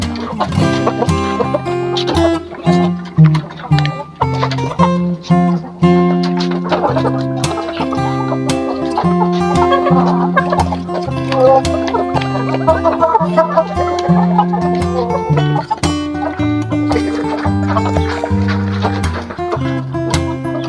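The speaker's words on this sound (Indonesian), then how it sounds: "kita lanjut memberi makan semua ayam-ayam saya yang ada di kandang" Pet chickens clucking in their coop during feeding time, a dense, continuous chorus of overlapping clucks and calls at close range, steady and loud throughout.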